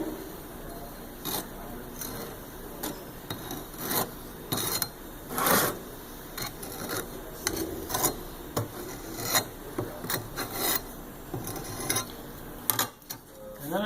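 Molding sand being scraped flat across a casting flask, a steady rasping, scratching sound with repeated strokes, close and moderately loud, with no voices.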